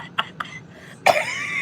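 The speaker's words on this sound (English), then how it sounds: "I'm coughing." Two short coughs, then a louder, longer throaty burst of coughing right up close.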